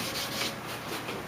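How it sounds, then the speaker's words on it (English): Close, steady rubbing of sandpaper across a plastic headlight lens on a 2004-2006 Pontiac GTO, a continuous soft scratchy hiss with no talk. "If you want to sand, you get all the rough stuff out"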